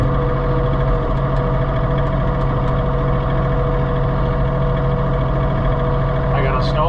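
A John Deere 3046R tractor's engine drones steadily while snow blowing, heard from inside the cab as a constant, loud low hum with a faint high whine near the end.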